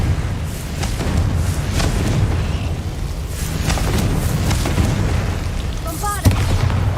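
The Confringo fire spell in Hogwarts Legacy blasts amid a dense, rumbling battle mix, with a low continuous boom and crackle throughout and a sharp burst near the end.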